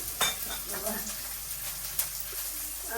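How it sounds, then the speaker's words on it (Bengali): Chopped onion and cumin seeds sizzling in hot oil, a soft, fairly quiet steady hiss with a few light clicks of a utensil on the pan. "একটু পেঁয়াজ কুচি দিয়ে দিলাম পেঁয়াজ কুচি একটু জিরেও দিয়ে দিন"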